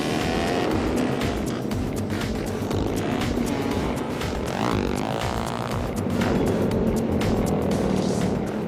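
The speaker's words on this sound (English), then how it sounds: "I'm hell on wheels on this killer quad." A quad bike ridden on Kangaroo Island gives a steady, loud engine drone throughout, with a rising whine partway through, as if passing close or revving, and no voices.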